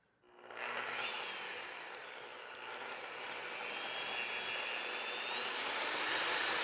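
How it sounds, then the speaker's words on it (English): An electric hand mixer whirs steadily through chaffle batter, starting abruptly and holding a continuous high-pitched motor drone that rises slightly in pitch toward the end, close and alone. "I'm going to mix that up with my hand mixer"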